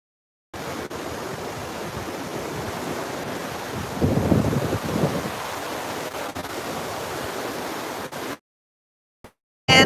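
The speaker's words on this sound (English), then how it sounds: "Atlantic Ocean at sunset." Atlantic Ocean surf and wind at the beach at sunset: a steady wash of breaking waves with wind buffeting the microphone. It swells louder for a moment midway, then cuts off abruptly near the end.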